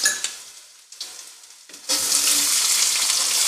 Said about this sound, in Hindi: रिफाइंड गर्म हो चुका है तो हम सबसे पहले लहसुन की पेस्ट डालेंगे।